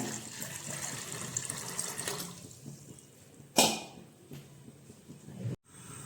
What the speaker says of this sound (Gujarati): હવે આપણે એમાં થોડું પાણી નાખશું